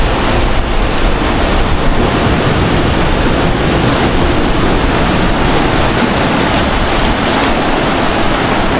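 Big ocean waves surge and crash continuously at Greweng beach in Yogyakarta, a loud, steady roar of surf mixed with wind buffeting the microphone, with no voices.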